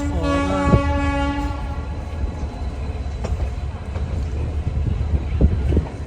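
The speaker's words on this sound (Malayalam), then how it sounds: "ബട്ടിൻഡ റെയിൽവേ സ്റ്റേഷനിലേക്ക് ഇതാ നമ്മുടെ ട്രെയിൻ എത്തിക്കൊണ്ടിരിക്കുകയാണ്" An InterCity Express train pulling into Bathinda railway station on a foggy day, opening with a long loud horn blast, then rumbling wheels and clanking carriages rolling close by with no voices.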